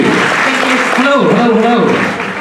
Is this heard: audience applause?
yes